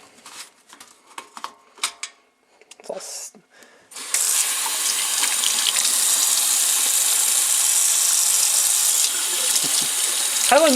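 A few light knocks and handling sounds come first, then a tap gushes steadily at a sink while soapy hands are washed, running close and even until the end.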